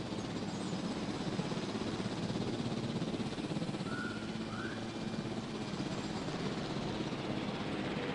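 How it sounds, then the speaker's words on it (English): A helicopter in the video game Jurassic World Evolution gives off a faint, steady rotor-and-engine drone that holds at an even level throughout. "Can I land a helicopter?"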